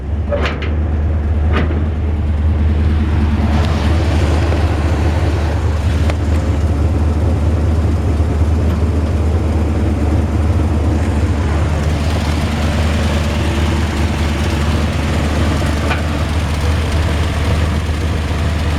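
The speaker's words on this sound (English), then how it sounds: "We'll hear the engine run, and then I'll shut it off so we can hear." A 1955 Ford F-100 pickup truck engine idles steadily with a deep, low rumble, a few clunks near the start, and a constant close-up drone; a minor exhaust leak.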